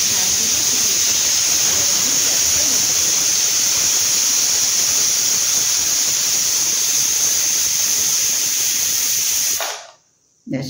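Steam rushing out of a pressure cooker in a loud, steady hiss close by that runs for about ten seconds before cutting off abruptly, followed by a brief quiet gap and a short resumed burst.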